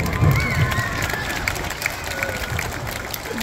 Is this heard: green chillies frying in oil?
no